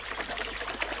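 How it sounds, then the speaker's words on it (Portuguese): Cartoon stream of flowing water, a steady bright rushing and trickling wash that fills the whole moment at moderate level with no voices over it. "Parece mesmo água."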